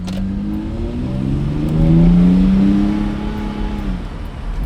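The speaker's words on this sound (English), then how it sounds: "the car is running perfect" A Mercedes SLK pulls away and accelerates, its engine note rising and holding through the revs with a gear change, then easing off as it drives on, close and clear.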